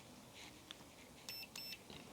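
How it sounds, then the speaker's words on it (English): A multimeter in continuity mode beeps while probing a Game Gear motherboard, giving two short, clear electronic tones in quick succession, with faint room noise and no talking. "got the multimeter in continuity mode"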